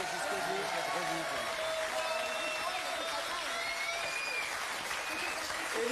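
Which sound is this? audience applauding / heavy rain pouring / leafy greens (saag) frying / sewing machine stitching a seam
audience applauding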